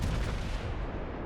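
A Montana battleship in World of Warships fires its naval guns at a German cruiser, a heavy booming salvo that rumbles loudly and fills the whole moment before slowly fading, with no talk.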